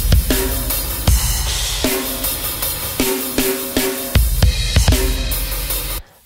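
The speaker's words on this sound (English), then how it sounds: "And so just fresh out of the box on the drums, it sounds like this." A drum loop heavily squashed by an OTT multiband compressor plugin pounds along in a steady groove, its kicks and snares dense and loud with little decay between hits and no voices over it.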